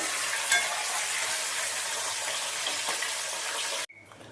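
Fish heads frying in oil over a low gas flame hiss in a steady bright sizzle while being gently stirred and turned, the sound cutting off abruptly just before the end.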